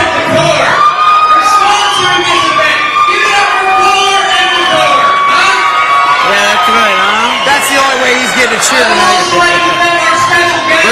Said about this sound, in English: He got five people clapping for him?